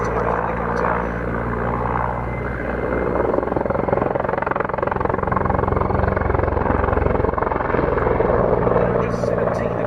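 A military helicopter's heavy rotor thumping and engine roar fill the scene continuously, loud and close, with no pause.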